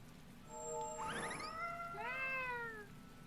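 Cat meowing from a cat box in the Tales of Berseria video game, two clear, rising-and-falling meows back to back over a soft background hum.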